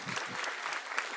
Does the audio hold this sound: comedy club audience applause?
yes